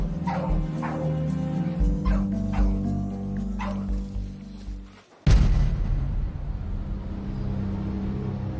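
A dog with severe burns being treated at a veterinary clinic whimpers and yips in a string of short, close cries, then a louder sudden burst follows after a brief quiet dip.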